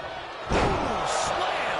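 A wrestler's head slammed onto the ring canvas during a tag-team match at Madison Square Garden, one sharp loud impact followed by crowd noise and talk.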